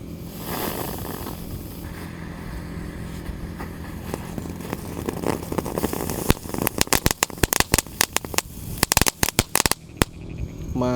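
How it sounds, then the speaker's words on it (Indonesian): A mercon tank firecracker set off at night during Ramadan, a hissing fizz building up before a rapid string of sharp, loud crackling pops in quick bursts. "jadi yang pertama kita nyalakan ada mercon tank."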